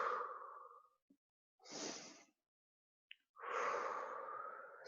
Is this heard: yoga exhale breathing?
yes